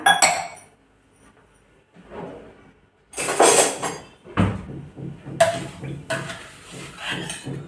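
Glass clinks and knocks in a home kitchen while a glass of water is handled for rava modak syrup, with several sharp close taps and rattles separated by short quiet gaps.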